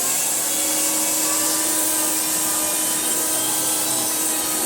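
A vacuum cleaner runs over a rug with a loud, steady, continuous motor roar and a high-pitched whine, close by and alone with no talking.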